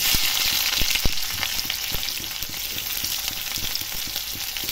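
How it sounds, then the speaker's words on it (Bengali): Onions go into hot oil left over from frying potatoes, crackling in a dense, continuous sizzle with scattered sharp pops and stirring sounds, close up and with no talking. "আলুগুলোকে ভালো করে ভেজে তুলে নেওয়ার পরে তেলের উপরে পেঁয়াজ দিয়ে দেব।"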